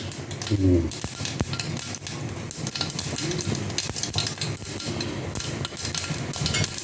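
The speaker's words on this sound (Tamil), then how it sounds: "இந்த கடுகு வெடிக்கிறேன்." Mustard seeds pop and crackle in hot oil, scattered sharp little bursts over a steady sizzle, with occasional clinks of a utensil.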